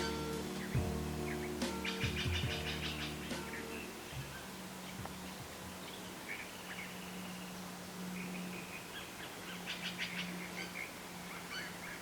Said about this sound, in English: I love when you can hear like all the different species of bird calls at the same time.